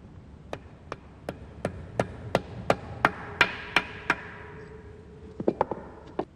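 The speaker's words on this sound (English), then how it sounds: "Fit the oil pump and drift in a new oil seal" Hammer blows drifting a new oil seal into a Rover K-Series engine: a steady run of about a dozen sharp metallic taps, close and clear, then a quick cluster of lighter taps after a pause.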